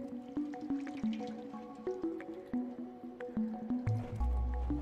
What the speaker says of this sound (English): there's water rushing in